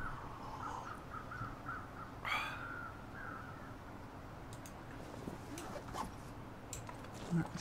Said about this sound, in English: We'll come back for those crows another time.